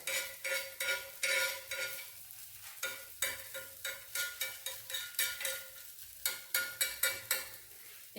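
Sweet pude pancakes made with jaggery or shakkar cook on a tava, a steady frying sizzle punctuated by repeated rhythmic scraping strokes of a spatula on the griddle, close and without speech.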